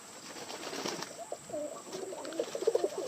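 Portuguese tumbler pigeons cooing nearby in soft, rolling, repeated phrases, with some background shuffling and hiss.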